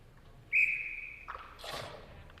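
At an ice hockey game, a referee's whistle gives one sharp, piercing blast of under a second, followed by a faint murmur of arena noise.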